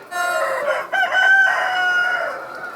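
A Ukrainian Black breed rooster crows loudly and close at a poultry research station, a drawn-out cock-a-doodle-doo with a brief break partway through.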